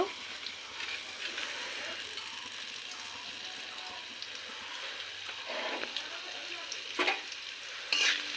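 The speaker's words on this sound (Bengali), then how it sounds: "একটু ভাজা ভাজা করে নেব পেঁয়াজটা ভাজা হয়ে গেছে" Onion, garlic and black cumin frying in oil in a home kitchen for a Bengali potato mash, giving a steady crackling sizzle with a few louder stirring scrapes near the end, no voices.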